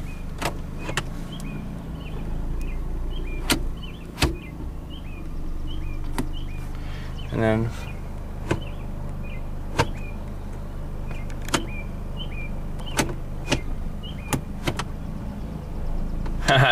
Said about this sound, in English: let's put the windows up in the front.